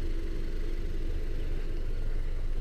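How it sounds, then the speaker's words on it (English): A 2018 Honda CR-V four-cylinder engine idles steadily with a low, even rumble and soft whir, constant and close, with no other sounds. "Very quiet, just sounds like a normal small four cylinder engine."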